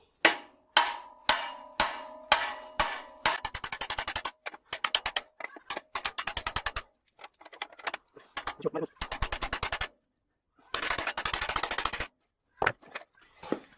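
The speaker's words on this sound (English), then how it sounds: "I think it's hammer time." Sharp, rapid metal strikes hammer on a bicycle bottom bracket, starting as a few spaced blows and then running into fast bursts with short pauses, loud and close.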